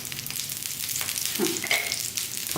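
Batter frying in oil in a pan gives a steady, loud sizzle with a few brief scraping touches, close and uninterrupted.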